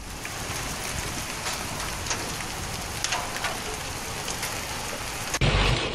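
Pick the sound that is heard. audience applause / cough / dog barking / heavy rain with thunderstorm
heavy rain with thunderstorm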